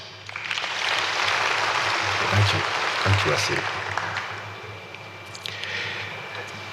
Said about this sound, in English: Let's give Wasiri a round of applause.